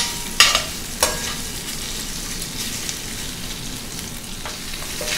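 Shrimp browning in a pan over medium heat, a steady low sizzle with a couple of sharp spatula scrapes and clinks near the start, then an even frying hiss to the end.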